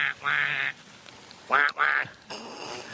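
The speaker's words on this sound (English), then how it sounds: "Chasing little ducks around a pond." Little ducks around a pond quack in a few loud, nasal bursts, two long calls, then a pair close together and a rougher one after, all near and clear.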